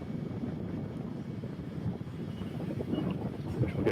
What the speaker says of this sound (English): So we've got another arrival coming in, Boeing 737 MAX